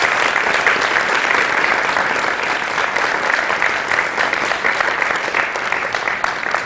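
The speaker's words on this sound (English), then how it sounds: "ladies and gentlemen, a very big round of applause for the students who organized this" Big, sustained audience applause at a ghazal concert rewards the student organizers, a thick even roar of clapping hands with no talk over it.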